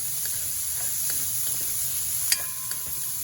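Oil sizzles steadily in a pan while pancit ingredients are sautéed and stirred, with a utensil scraping and clinking now and then, one sharper knock standing out near the end; no one speaks.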